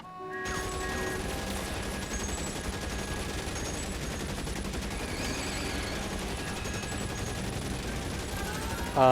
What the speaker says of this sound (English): There's a lot of gunfire going on.